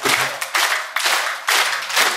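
Rhythmic group hand clapping keeps time at a funeral-rite bhajan, loud, close, and even, with claps in regular bursts of about two per second. No voices stand out.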